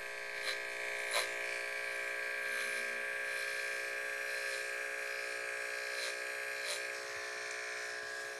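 A beard trimmer hums steadily while cutting hair around the temples during a skin fade haircut, with a constant close electric buzz and a few brief clicks and bumps.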